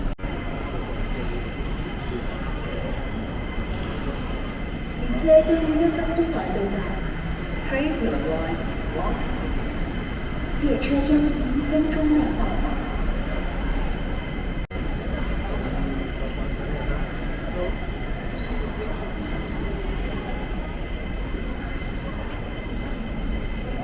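A steady rumbling hum of a train in motion, with faint rattles and a muffled announcement voice speaking intermittently over the continuous ride noise.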